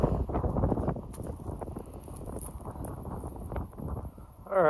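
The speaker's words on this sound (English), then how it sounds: "it's a windy one this morning. Windy and chilly." Wind buffets the microphone outdoors on a chilly morning at a trapping site, a loud, continuous low rumble with gusty surges that swells again near the end.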